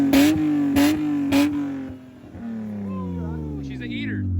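BMW E36 engine revving hard during street drifting, several quick loud rev blips from double clutching followed by a sustained rising roar, close by.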